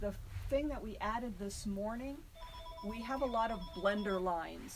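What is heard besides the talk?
telephone ringing in the background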